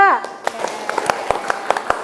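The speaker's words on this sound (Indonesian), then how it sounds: "tepuk tangan untuk kelompok 2" A small classroom group claps for a student team, a handful of sparse, uneven claps following a short voiced sound at the start, close and moderately loud.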